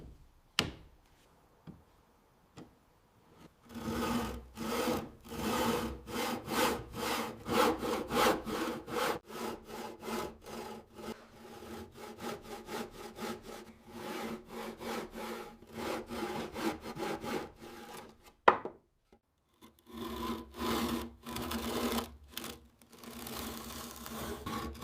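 Japanese pull saw cutting hardwood on the pull stroke, a steady close rasping rhythm of rapid even strokes for most of the stretch, pausing briefly before resuming, with no speech.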